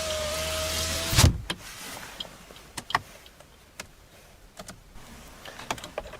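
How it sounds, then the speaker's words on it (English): The driver's side power window of a 2013 Suzuki Swift runs with a brief electric motor whine that ends in a soft thunk, followed by faint scattered clicks in the quiet car interior. "Driver's side window only goes down automatically."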